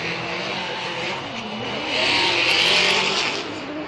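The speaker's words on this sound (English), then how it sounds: "you see him kind of bogged down, back on the throttle" A drift car's engine revving hard at a Formula Drift competition in New Jersey, a loud, steady high-pitched roar that rises as the throttle opens, with tire noise mixed in.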